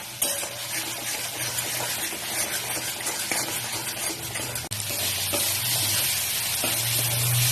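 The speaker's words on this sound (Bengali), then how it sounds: "খুব ভালো করে মশলাটা কষিয়ে নিচ্ছি।" Spice masala frying in oil for a Pahadi mixed dal, a steady close sizzle with scraping stir strokes running throughout and a brief dip midway.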